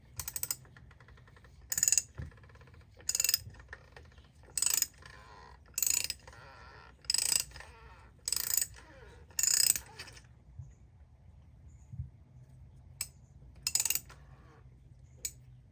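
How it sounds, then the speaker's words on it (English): A wrench ratcheting to loosen the oil drain plug under a 2023 Porsche Macan 2.0L Turbo, heard as about ten close bursts of rapid clicking in a steady rhythm, separated by short pauses. "So let's unscrew it slowly."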